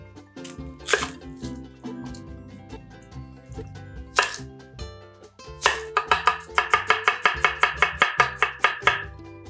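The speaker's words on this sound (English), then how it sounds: "All right, let's break down the onion." A knife chops an onion: a few scattered cuts early on, then a rapid, even run of sharp chops near the end, set against tonal background sound.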